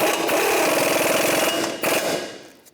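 A power tool rapidly rattles as it snugs up the shock absorber nut on a 2002-2005 Ford Explorer front suspension, a loud continuous buzzing burst that slows and fades out at the end.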